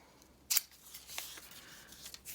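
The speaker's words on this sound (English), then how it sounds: "this one we should be safe to use scissors on" A sharp snip of scissors cuts through paper, followed by softer rustling and a couple of lighter cuts in a quiet room.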